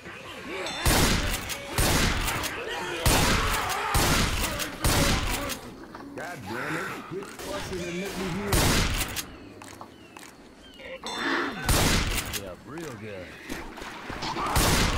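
Hunting rifle shots from Left 4 Dead 2 ring out in a rapid series of loud, sharp blasts during a co-op round, with gaps between some volleys and a voice talking underneath.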